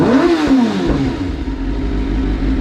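A sportbike engine running on a standalone ECU revs up loudly and close by, then settles into a steady, rough high idle for the rest of the clip, with no voices.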